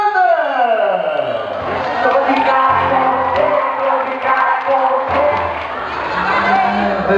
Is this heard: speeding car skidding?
no